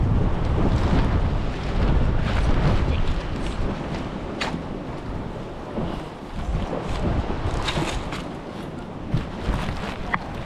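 Steady wind buffets the microphone at a Spanish marina during sea fishing, a continuous loud broadband roar with gusty swells and no voices.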